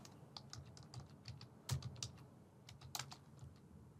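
Fingers tap quickly on a computer keyboard, giving a close, quiet run of irregular clicks with a few sharper keystrokes standing out against a faint background hum.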